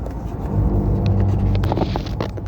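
Heavy highway traffic heard from inside a moving car, a steady low road rumble and engine drone filling the cabin throughout, with a few faint knocks and rustles near the end.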